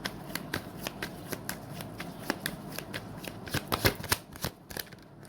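Tarot cards are shuffled by hand in a quick run of crisp riffling slaps and flutters, close and fairly loud, with the pace picking up near the end and no talking over it.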